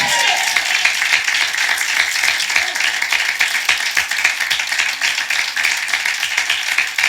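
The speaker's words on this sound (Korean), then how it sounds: "우리 하나님께 박수를 영광 돌리겠습니다" A large church congregation applauds steadily during a Sunday service, a dense wash of clapping that holds for several seconds without a break.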